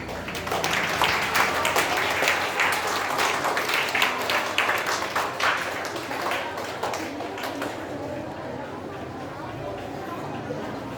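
School audience applauding the winning houses at a storytelling competition, a burst of dense clapping that gradually thins out, with faint chatter beneath.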